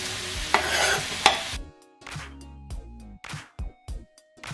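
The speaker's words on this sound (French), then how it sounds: "Alors c'est maintenant, on rajoute les oignons." Onions added to gochujang bulgogi meat frying in a pan, a loud sizzle and scraping stir at first, then intermittent clinks and scrapes of stirring as the sizzle quiets.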